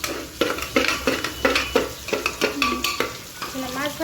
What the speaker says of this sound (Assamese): মাছ ভাজি আছোঁ